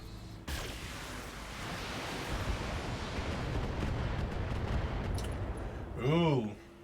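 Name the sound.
weapons fire in BattleTech video game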